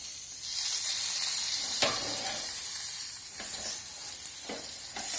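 Mackerel fish frying in masala on a tawa, a steady close sizzle and crackle with occasional louder spatters and stirring, continuous throughout with no talking.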